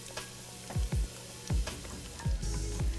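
Chopped onions cooking in a stick of butter, a quiet sizzle and frying crackle with a few soft spoon stirs and low taps against the pan.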